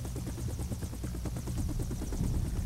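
Helicopter in the video game Batman Vengeance, a steady rapid rotor chop with engine drone, loud and continuous throughout.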